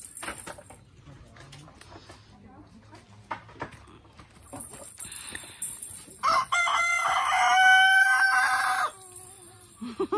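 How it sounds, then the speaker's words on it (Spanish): A rooster crows loudly nearby in a long drawn-out call after several seconds of quieter background sounds, with faint clucking around it. "cantó el gallo."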